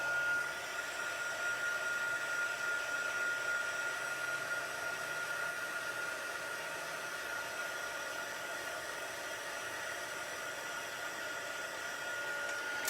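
A heat tool blows steadily to heat-set a stamped card, giving a continuous, even whooshing hum close by that runs alone the whole time with no pauses.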